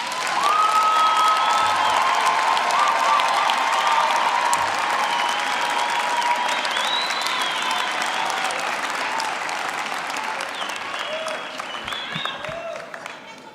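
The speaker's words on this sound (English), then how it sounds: "Let's give our graduates a big hand of applause." Sustained audience applause at a university graduation, steady clapping from a large crowd with a few faint cheers, fading slightly toward the end.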